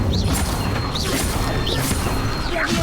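Incendio fire spell in Hogwarts Legacy bursts loudly with crashing, roaring energy and several bright chirping magical accents repeating over a few seconds of busy battle noise.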